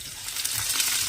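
Tempering spices—chana dal, mustard seeds, cumin and dried red chillies—crackle and sizzle in hot oil, a short, moderately loud burst of frying with scattered pops and no voices.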